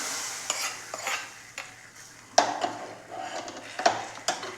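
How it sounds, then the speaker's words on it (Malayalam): Hot mustard seed tempering poured into a prawn and raw banana curry, heard as a run of sizzles and spoon scrapes against the pan, with sharper metallic clinks here and there, close by and without talk. "ഇനി നമ്മൾക്കിത് കറിയിലേക്ക് ഒഴിച്ചു കൊടുക്കാം"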